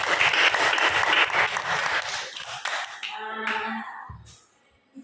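A class applauds group one in a classroom, brisk clapping for about three seconds that thins into a few scattered claps and taps before falling quiet.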